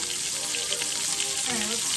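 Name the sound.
meatballs frying in a pan on medium-high heat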